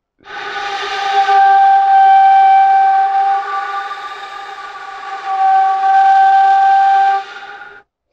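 A steady breathy ney flute tone sounds close and strong, blown at a 20-30 degree angle, holding one airy pitch for several seconds and swelling slightly before stopping.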